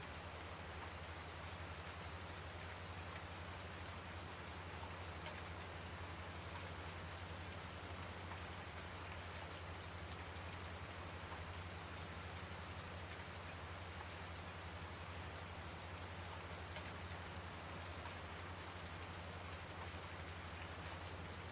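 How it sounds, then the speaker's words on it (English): Rain falling outside during Farming Simulator 19 fieldwork, a faint, even hiss of steady rainfall running unbroken for the whole stretch with a low hum beneath it. "The only thing I can hear is rain, unless I'm like right here."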